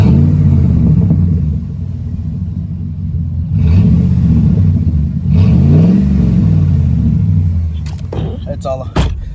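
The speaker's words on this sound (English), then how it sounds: "this is me at a standstill, revving up." A Jeep with a cheap new loud aftermarket exhaust revs at a standstill in several deep, booming surges and then settles back to a rumbling idle, loud and close.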